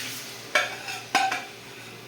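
A spoon stirs spicy khichuri with spices in a pot, giving three short scraping strokes over a faint background sizzle, close and fairly quiet.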